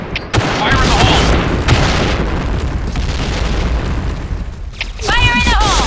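Explosive booms from grenades in the first-person shooter Point Blank, a dense run of loud blasts that fill the whole stretch, with short game voice callouts near the end.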